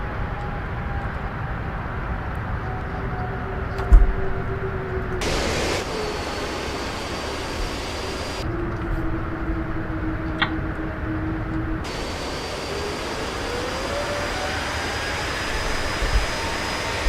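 Airbus A330 jet engines in the Prepar3D flight simulator roar steadily on a takeoff run, a constant loud drone with a high whine, broken by a few brief bursts of hiss and a couple of clunks.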